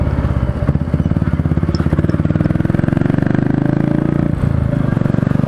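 A Royal Enfield Meteor 350 motorcycle rides through city streets, its low-revving single-cylinder engine giving a steady, loud, close thumping exhaust beat with slight rises in pitch as it accelerates.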